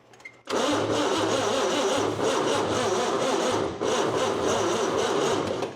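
A Pontiac engine cranks and catches with a sudden roar, then runs loud and rough with fuel given, the revs rising and dipping briefly before holding steady, close by.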